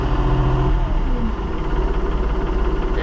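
Minneapolis Moline Jetstar 3 tractor engine idling close by, an even low rumble with a soft rhythmic pulse throughout, a brief voice over it.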